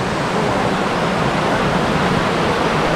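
A river rushes steadily beside a rocky trekking trail in a Sukabumi valley, a loud, continuous broadband wash of water with no pauses and no voices over it.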